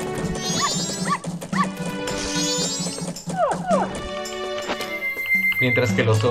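A dog in The Legend of Zelda: Majora's Mask gives short, repeated barks and yelps, then a whimper, set against game music and effects, with a voice speaking at points.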